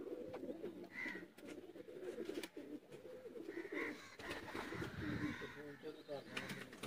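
Lakhay pigeons coo softly and repeatedly in a steady murmur, with other birds calling faintly in the background over a continuous low din.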